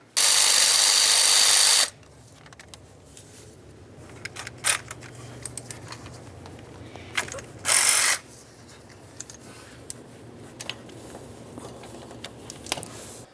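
Socket ratchet loosening the 15mm bracket mounting bolts on a 2006-2010 Ford Explorer: a loud burst of rapid ratcheting clicks, a stretch of quieter tool handling and taps, then a second short ratcheting burst.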